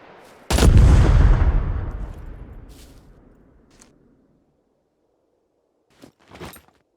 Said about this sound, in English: So let's try 5 pipe bombs now.